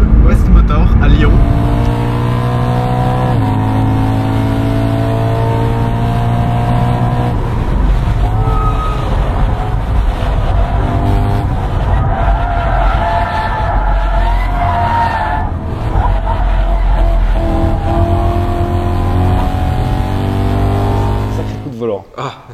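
A 1992 BMW M3 track car, prepared by a Lyon tuning shop, runs on a circuit with a loud, sustained engine drone and shifting revs that continue steadily, mixed with music or talk throughout.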